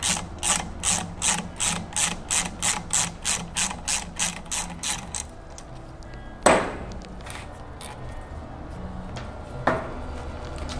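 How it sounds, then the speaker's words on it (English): A ratchet wrench loosening the crank arm bolt on a BBSHD e-bike mid-drive motor clicks in a fast, regular run of about fifteen loud, close pawl clicks, then goes quiet apart from two sharp metallic knocks. "I'm going to go ahead and take my crank arm off."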